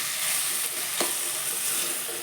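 Pumpkin curry is stirred in a pan over low flame, a brief burst of steady hissing sizzle with one scrape of the spoon, close and fairly loud, no voices.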